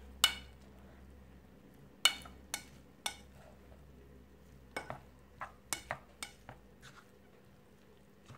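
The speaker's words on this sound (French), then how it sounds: "Je mélange bien." Sushi rice being mixed with vinegar, a series of light, sharp taps and knocks of a utensil against the bowl at irregular intervals over a quiet background, close and fairly soft.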